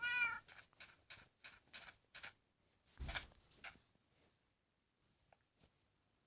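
A cat meows repeatedly in quick, short calls in Minecraft, then falls quiet except for a few faint clicks near the end.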